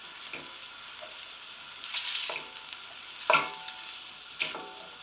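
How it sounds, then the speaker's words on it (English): Vegetables for a smoked paprika goulash sizzle in a pan, a steady crackling hiss punctuated by several louder scraping bursts of stirring, close and clear with no voices. "Once they start to sizzle, I'm going to turn the heat down and put the lid on."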